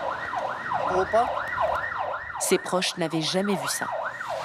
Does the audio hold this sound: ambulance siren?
yes